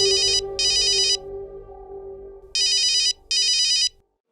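Phone ringtone for an incoming call, bright electronic chirps in four short bursts, two together then a pause and two more, heard clearly over a low background hum.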